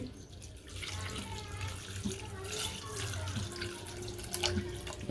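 Thick first-press coconut milk poured onto garlic in a pot, a soft continuous liquid pouring and splashing, quiet and close, with no talk over it.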